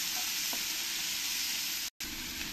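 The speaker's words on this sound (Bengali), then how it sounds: "পেঁয়াজ কুচিগুলো ভালো করে আমি একটু ভেজে নেব" Chopped onions fry in a pan with a loud, steady sizzle, broken by a very brief dropout near the end.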